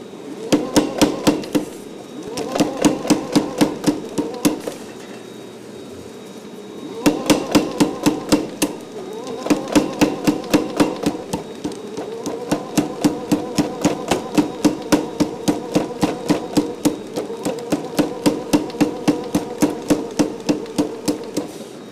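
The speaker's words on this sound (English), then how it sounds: "But this part, I'm going to use a hammer." A hammer striking hot metal at a forge, long runs of rapid, ringing blows in steady rhythm, broken by short pauses between bursts, loud and close.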